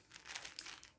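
A plastic bag crinkles and rustles continuously for a moment, faint and close, with no voices.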